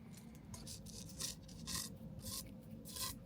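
Old factory strings being pulled out of a tennis racquet that has never been restrung, giving several rasping, rubbing swipes in irregular bursts over a low steady background hum.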